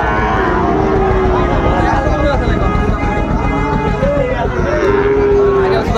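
A Sahiwal bull bellows with long, low moos at a busy cattle market in Chittagong, heard close and loud over a dense crowd murmur with people talking nearby.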